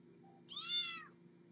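A kitten gives a single clear, rising-and-falling meow, close and fairly soft, over a low steady indoor hum.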